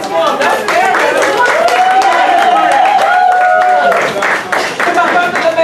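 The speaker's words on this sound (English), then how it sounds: "You all clap your hands for them." An audience claps and applauds speakers called to the front at a mayoral campaign announcement in Sauk Village, a steady patter of clapping under a loud voice talking over it.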